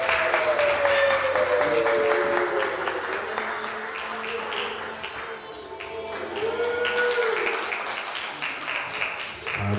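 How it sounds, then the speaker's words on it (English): Wedding guests applaud a family on the dance floor in a reception hall, sustained clapping with some cheers over background music, while an announcer speaks. "Let's give this family another round of applause."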